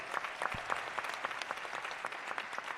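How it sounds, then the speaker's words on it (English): An audience at a social justice symposium applauds a panel, a brisk, even patter of many hands clapping at moderate volume, steady throughout with no talking. "So give our panel a round of applause."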